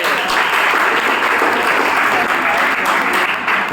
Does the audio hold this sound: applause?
yes